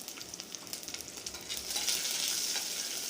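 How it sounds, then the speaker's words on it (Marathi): Mustard seeds, cumin, garlic and green chillies frying in oil for a tempering, quick light crackles and pops at first, then a fuller, steadier sizzle swelling toward the end, close up and without speech. "लसूण आणि हिरव्या मिरच्या छान असं तेलामध्ये परतून घ्यायच्या थोड्याशा लालसर होईपर्यंत"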